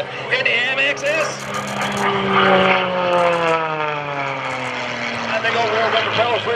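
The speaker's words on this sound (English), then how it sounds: "Mr. Scott French is coming left in the MXS" An MXS aerobatic propeller airplane at an airshow drones steadily with a buzzing engine note that slowly falls in pitch as it passes, loud and continuous, while talk carries over it.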